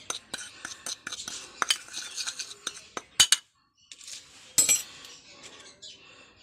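A spoon clinks and scrapes around a bowl as chili powder and salt are mixed with a little water, quick irregular taps, close and fairly quiet, with a couple of sharper knocks.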